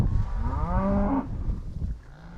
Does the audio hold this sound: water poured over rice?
no